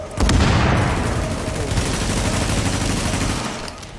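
Shotgun fire in the video game The Division: a loud, dense burst of blasts that holds steady for several seconds, then fades near the end.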